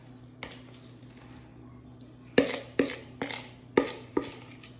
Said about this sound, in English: I'm gonna actually just scoop all this into this pan